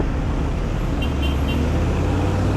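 Steady roar of heavy road traffic along EDSA in Manila, cars, buses and trucks passing close by a cyclist in a cramped bike lane during hot weather, loud and continuous with no pauses.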